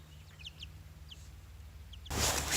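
A Silkie hen gives a few soft, brief clucks inside a chicken coop, faint and close, followed by a burst of broadband rustling noise.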